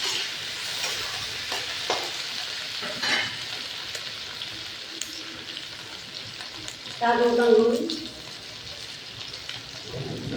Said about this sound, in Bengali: পেঁয়াজ আলু ভাজা ভাজা হয়ে গেছে